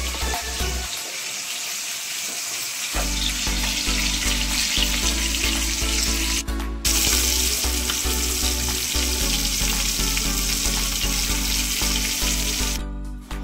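Fish frying in a pan at home, a loud continuous sizzle close by that breaks off briefly twice and then resumes.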